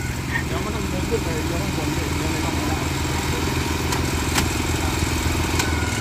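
A vegetable planting vehicle's engine runs steadily nearby, a loud, even chugging rumble with a faint rhythmic clatter, while people talk over it.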